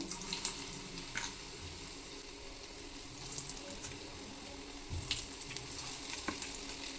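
Corn fritter batter is spooned little by little into hot oil, a faint, steady frying hiss with a few soft splashes and spoon taps scattered through it.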